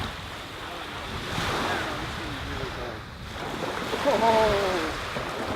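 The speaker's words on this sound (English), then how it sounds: "Chris, we finally made it to the water." Waves washing on a Lake Michigan shore, a soft rolling surf swell under gusty wind noise, with faint voices talking over it.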